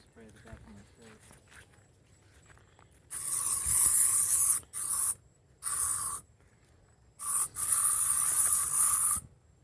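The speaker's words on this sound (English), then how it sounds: "Maybe I should have you spray the back of my shirt." Several loud hissing bursts of an aerosol spray, a long one followed by short ones and another long spray, after faint quiet talk.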